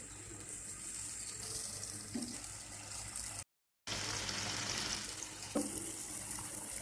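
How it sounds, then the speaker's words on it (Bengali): A kitchen tap runs steadily into a sink while spice marinade is rinsed off fish for hilsa pulao, a continuous splashing stream with a brief break partway through. "মাছ মাখানো মশলাগুলো আস্তে আস্তে করে ধুয়ে দিই"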